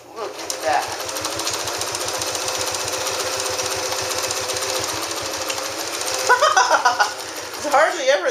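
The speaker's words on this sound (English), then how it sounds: "Let's run over these jeans again, doubled over." A Belvedere Japanese Featherweight sewing machine stitches through doubled-over jeans and a thick seam, its needle hammering in a fast, steady, loud mechanical rhythm that strains and knocks slightly toward the end.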